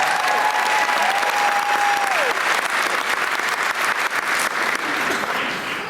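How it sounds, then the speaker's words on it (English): A show audience gives a loud, sustained round of applause that fills the room, with a whistle rising early and the clapping thinning slightly at the end. "let's give him one more round of applause."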